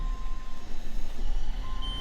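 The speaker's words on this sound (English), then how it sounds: "it beeps the entire time that we're putting the slides in and as we're getting ready to go" A shrill steady beep from a luxury American Coach Class A motorhome sounds repeatedly while its slides retract and jacks come up on a travel day, over a low engine hum.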